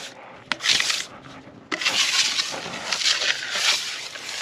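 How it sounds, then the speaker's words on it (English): A metal scraper rubs and scrapes across a food truck's flat-top grill, spreading lubricant over the surface in loud, continuous rasping strokes after a few short scrapes, with no one talking. "simply just taking my scraper that I have, lubricating all the surface."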